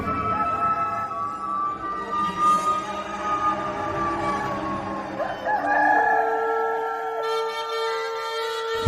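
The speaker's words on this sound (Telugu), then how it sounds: "వెంటనే కోడి కూసెను." A rooster crows in a long, loud, wavering call that carries across most of the clip, with faint clucking and a drawn-out final note.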